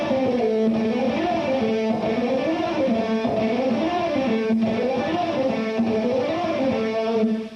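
Distorted electric guitar shred run, rapid double picking with accents on the second string, sounds as a fast, continuous rippling pattern of notes that rises and falls in repeating waves, loud and alone for the whole stretch.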